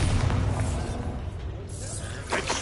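A Bombarda blast in Hogwarts Legacy booms loudly at the start, fades, and is followed by a sharper shattering burst near the end, with a voice heard partway through.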